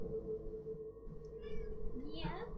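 A house cat meows a few short, faint cries near the microphone, the last one rising and longer, over a low steady hum in a quiet room.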